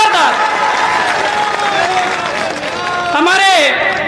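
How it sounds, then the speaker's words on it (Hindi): A crowd at an election campaign rally in Madhya Pradesh applauds to welcome a chief minister, with loud continuous clapping filling the scene and a voice cutting through near the end. "मैं चाहती हूँ जोरदार ताली बजा के स्वागत करें, जोरदार"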